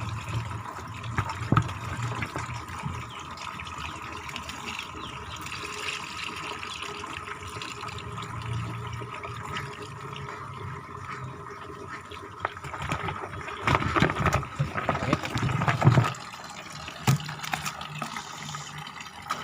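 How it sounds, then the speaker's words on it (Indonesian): Water is drained out of a swamp fish trap, a continuous close gush and trickle of water with splashy bursts that swell toward the end. "Buang airnya dulu."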